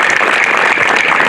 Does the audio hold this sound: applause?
yes